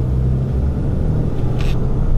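A RAM 3500 dually pickup truck driving on the road, a loud, close, low engine rumble with steady road noise.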